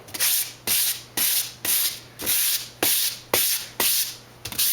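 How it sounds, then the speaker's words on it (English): Hand sanding of a foam composite plane wing core, a steady series of about nine rhythmic back-and-forth strokes, each a close, raspy swish separated by short pauses. "So then that leaves this side that I can sand a little bit."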